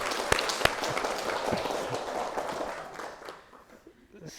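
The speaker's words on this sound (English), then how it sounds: "A round of applause." Applause from a retreat audience at a morning talk: a burst of scattered clapping with a few sharp claps early, fading out over several seconds into near quiet.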